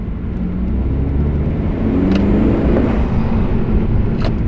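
A Honda Civic Si fitted with a PRL Stage 1 intake driving along, a steady loud engine and road rumble heard from inside the car with faint intake hiss and no talking.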